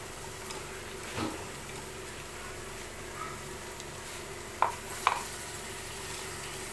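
Sugar being stirred into mango pulp in a bowl, soft scraping and swishing of a spoon with a couple of sharp clinks against the vessel, quiet and close.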